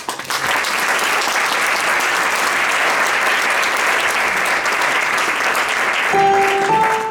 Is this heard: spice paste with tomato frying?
no